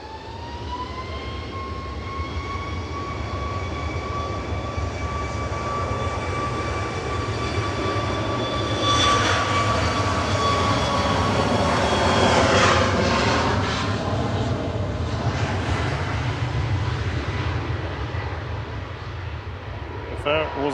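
An Air Canada airliner comes in to land at Manchester Airport, a sustained jet roar with a falling whine that swells as it passes close overhead and then eases away.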